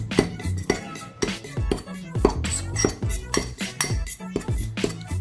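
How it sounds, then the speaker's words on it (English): A spoon clinks rhythmically against a cup while stirring mug cake batter with baking powder mixed in, giving a steady series of close, bright metallic taps and scrapes. "And then mix it again."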